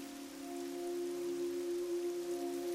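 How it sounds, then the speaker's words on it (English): Steady rain falls in the DayZ video game, a soft continuous hiss with a low droning hum beneath it, lasting the whole moment with no voices. "I don't mind a little bit of rain when I'm fishing, but otherwise, it just gets old after a while."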